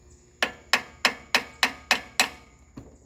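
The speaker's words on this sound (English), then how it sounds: "let's tap this starter with a hammer" A hammer taps the starter of a lawn mower, seven sharp metallic knocks at an even, quick pace, close by, followed by a fainter eighth tap.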